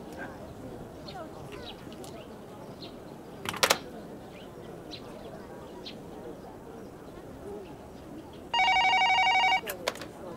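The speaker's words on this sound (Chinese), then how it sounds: "我等小周电话呢" A telephone rings in one short electronic burst near the end, clear above a busy, steady background ambience.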